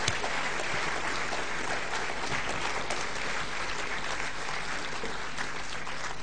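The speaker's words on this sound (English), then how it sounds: "can we give Frank a great round of applause" A conference audience gives a full round of applause, dense and even clapping throughout, sustained and fairly loud, with no talking over it.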